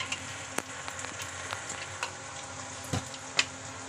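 Onion, tomato and ground masala frying in a pan, giving a steady soft sizzle with occasional small pops and faint clinks, close and fairly quiet, with no voices.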